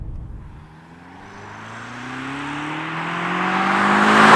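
A BMW M5 Competition accelerates hard down the road on P0 tyres, its engine note climbing steadily in pitch as a loud, continuous rising drone swells with growing intake and road roar.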